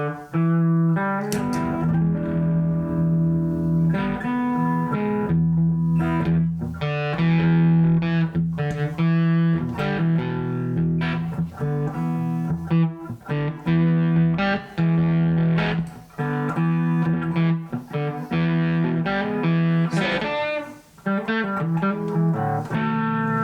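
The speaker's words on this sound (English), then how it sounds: "it just adds a little bit of distortion to the signal, makes it sound a little bit more like a tube amp" An electric guitar played through a Brelliott Deluxe TODP overdrive pedal on very low drive, sustained chords and single notes ringing with a light crunchy, tube-amp-like edge, no talking.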